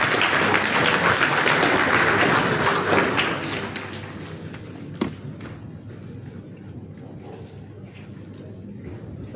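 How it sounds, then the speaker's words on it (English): Applause from an audience at an ECOWAS Convergence Council meeting, dense and steady at first, then thinning and fading after a few seconds into scattered claps and room murmur. "Let's give him another round of applause"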